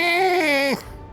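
A person vocally imitates a sea otter call: one drawn-out, high-pitched, whiny squeal lasting under a second that slides downward at the end, close and loud, followed by a brief quiet and a faint breath.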